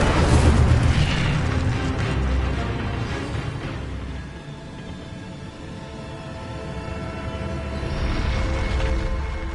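An Incendio fire spell bursts in the game Hogwarts Legacy, a loud rumbling blast up front that decays into a low roar, with another swell of whooshing fire near the end, no talk.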